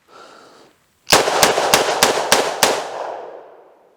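A Chiappa Rhino .357 revolver fires six full 158-grain rounds in rapid succession, sharp loud close cracks evenly spaced about a third of a second apart, with a ringing decay trailing after the last shot.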